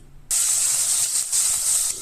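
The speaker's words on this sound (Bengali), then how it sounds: "তেল গরম হয়ে গেছে, মাছগুলো এবার তেলে ছেড়ে দিচ্ছি।" Bata fish slid into hot oil in a wok, bursting into a loud, steady frying hiss that holds for nearly two seconds with slight surges before easing off at the end.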